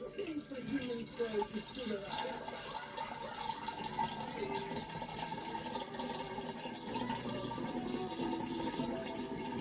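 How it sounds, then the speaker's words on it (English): Liquid waste from gold refining being poured into a container, a continuous splashing trickle under a voice talking throughout. "So I'm going to pour this waste into here."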